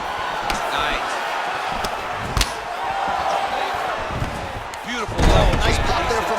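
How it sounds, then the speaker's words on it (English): An arena crowd roars at a UFC takedown in the Dos Anjos vs Lee bout, a broad swelling cheer that lifts noticeably near the end beneath steady commentary. "Nice pop there from the crowd as he finally gets the takedown"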